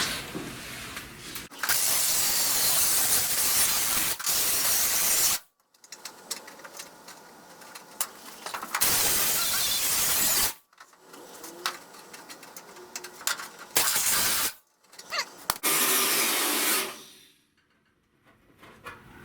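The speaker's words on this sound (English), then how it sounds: "actually I want to come in and grind this lip on down." A grinder works down the lip of a rusty window channel on a 1970 Buick Wildcat. The loud, harsh hissing grind comes in several long bursts, separated by short silences.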